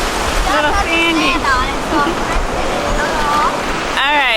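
Choppy ocean waves breaking at a Florida beach in New Smyrna Beach, a steady broadband wash of surf with people talking and calling out over it throughout.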